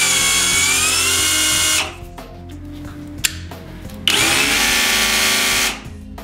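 A Crown cordless rotary hammer switched to reverse whirs loudly up close, running steadily, stopping with clicks and handling noises, then spinning up again for another long burst.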